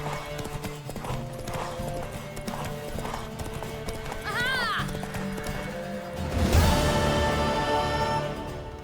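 A horse gallops in The Witcher 3: Wild Hunt, its hooves drumming a fast, steady clip-clop. A whinny rises midway, and game voices talk over the ride.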